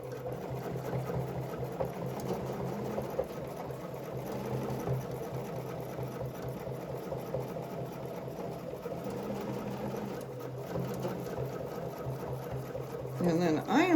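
Quilting sewing machine fitted with a ruler foot stitching steadily, a continuous close mechanical hum and rapid needle rhythm with brief pauses, a voice speaking over it.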